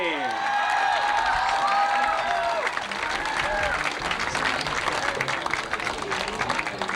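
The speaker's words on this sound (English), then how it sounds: "A good round of applause for Mark Ricciardelli." A large crowd applauds and cheers with scattered whoops at the 1989 Canadian skateboarding championships as a winner is honored, steady dense clapping filling the whole stretch.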